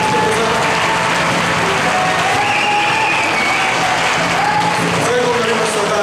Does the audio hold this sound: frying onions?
no